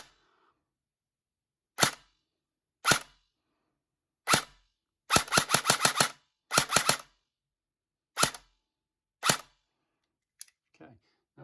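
A Specna Arms airsoft rifle with precock switched on fires sharp, close single shots and short rapid bursts, separated by silent gaps and ending with faint handling noises.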